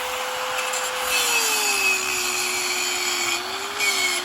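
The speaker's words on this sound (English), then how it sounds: "So I'm gonna bring the grinder out. I'm gonna cut it around the bottom as much as I can" An angle grinder cuts through embedded metal with a loud, continuous, close-up whine whose pitch sags slightly under load, over a constant rough grinding hiss.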